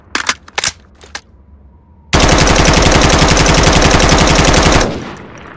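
M4A1 rifle fire in a video game: a few short bursts, then a long, loud, sustained automatic stream lasting nearly three seconds before it cuts off and fades.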